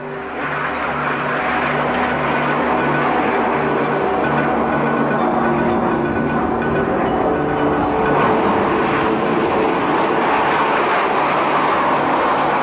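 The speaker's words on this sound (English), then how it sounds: "Section of 4 aircraft in front of you doing a loop, and the section of 5 aircraft doing a roll inside the loop" Formation of nine jet aircraft at an air show, four flying a loop while five roll inside it, a loud continuous roar that holds steady with no gaps.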